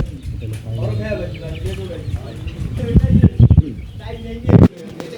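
Pigeons coo softly at a roadside poultry shop in Tangail town that sells chickens and pigeons, with low, rolling calls mixed with nearby talk and a few louder bumps.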